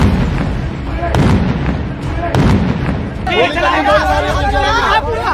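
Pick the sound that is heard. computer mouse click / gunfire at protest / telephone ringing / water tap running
gunfire at protest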